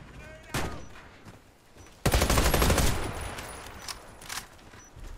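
Bursts of gunfire in a tactical shooter match, a short shot early then a dense loud volley that tapers off, with more scattered shots after, under excited talk between players.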